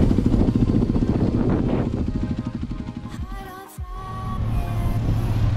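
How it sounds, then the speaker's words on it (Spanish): Haojue Xpress 125 motorcycle ridden on a training course, a steady engine drone with wind buffeting that briefly dips and then rises again. "ahora cogió ya la otra motocicleta, el Express"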